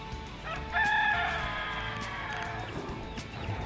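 Chickens on a backyard farm, including a barred rock and Orpington mix hen, with a loud, close rooster crow in the middle and clucking around it, over steady outdoor background noise.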